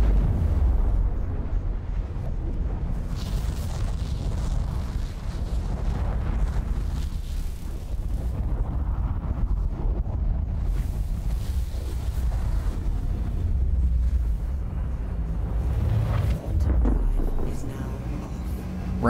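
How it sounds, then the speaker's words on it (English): Drake Buccaneer spacecraft spooling up its quantum drive in Star Citizen, a steady loud low rumbling roar with airy hiss that holds for the whole stretch, swelling slightly in places, alone without voices. "Quantum drive is now on."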